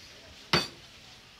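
A single bright metal spoon clink, sharp and close, rings out once and fades quickly over quiet background during a children's game and prize event.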